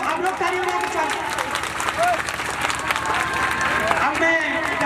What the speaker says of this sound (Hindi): आप लोग तालियों में स्वागत।